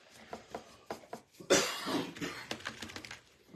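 A single harsh cough bursts out close by, followed by a few quieter throaty sounds and rustling.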